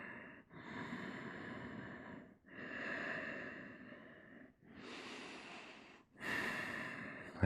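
A person sits with eyes closed after a supported headstand, taking slow, audible breaths, about four long inhales and exhales, close and quiet with soft pauses between.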